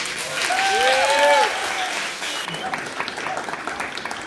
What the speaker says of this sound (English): Can we get a big round of applause for everyone who performed in the first half